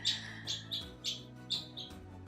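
Pet bird indoors giving a series of short, bright chirps, about six evenly spaced over two seconds, close and clear against a quiet low hum.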